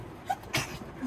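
A single quick sneeze inside a converted Toyota Coaster campervan, close and fairly faint, brief against a quiet background.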